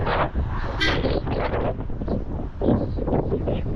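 Strong wind on Pamban Bridge roars steadily against the microphone, a loud continuous rumbling buffet with no voices.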